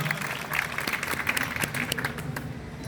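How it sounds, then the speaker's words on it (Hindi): Audience applause welcoming a doctor at a farmers' fair held at an inter college, continuous fairly loud clapping with scattered sharper claps and light crowd murmur. "डॉक्टर साहब का जोरदार ताली की गड़गड़ाहट से स्वागत हो"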